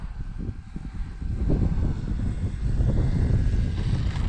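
Small Top RC Thunder radio-controlled airplane coming in to land, its engine and propeller giving a steady broadband drone with wind rumble that grows louder after the first second and holds close and continuous.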